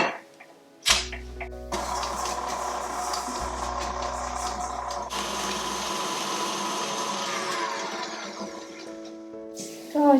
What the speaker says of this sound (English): Using an electric mixer, beat on medium to high speed until the mixture becomes pale in color and fluffy.